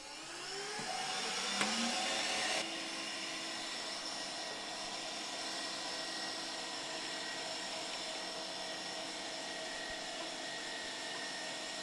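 Electric meat grinders start up and run while grinding beef, a bright whining motor drone with steady tones that settles into a continuous, even hum after a brief louder start.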